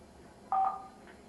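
An office telephone paging tone sounds once, a short bright two-note electronic beep over quiet room noise, followed by a fainter echo of the tone.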